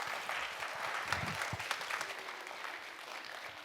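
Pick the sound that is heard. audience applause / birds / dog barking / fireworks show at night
audience applause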